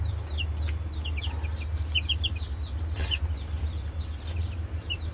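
Two-week-old chickens make soft clucks and scattered high peeps at close range over a low steady background hum.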